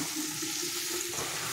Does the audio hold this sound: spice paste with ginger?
yes